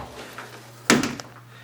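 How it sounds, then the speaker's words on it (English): A bedroom closet door in a rental house is pulled open with one sharp rattling thud and a brief slide, close by, against a quiet room hum. "And we'll open that closet door for you."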